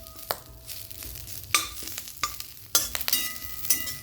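Washed, patted-dry curry leaves roast in oil in a pan over raised heat for chutney, a steady close sizzle broken by sharp spatula scrapes and stirring knocks, no voices.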